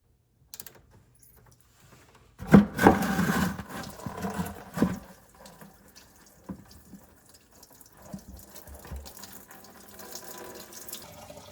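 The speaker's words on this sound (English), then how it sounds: "you're going to remove that petcock right there to drain the coolant" Coolant draining from the radiator petcock of a 1997-2004 C5 Corvette, a steady trickling, splashing flow that starts loud after a brief clatter and then settles into a quieter, continuous running stream.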